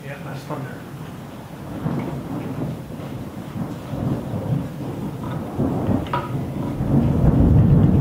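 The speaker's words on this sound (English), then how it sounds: "Yeah, that's thunder." Low, rolling thunder rumbles through a workshop, building gradually in loudness toward the end, with faint knocks and clatter from wooden bar clamps nearby.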